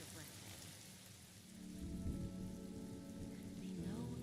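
A steady downpour with rumbling thunder in a video game scene, faint at first, then swelling into a heavy, continuous wash of rain.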